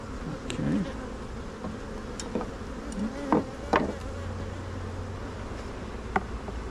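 Honeybees buzz steadily around a hive frame during a beehive inspection, a continuous close drone with a few louder passes as individual bees fly near.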